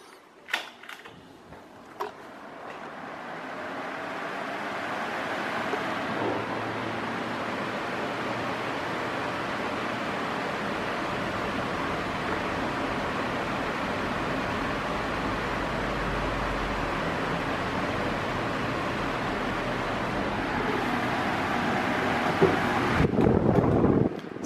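A Britânia Mega Turbo 40 electric column fan runs, a steady broadband whoosh of moving air that starts after a few clicks, holds constant for about twenty seconds, then stops.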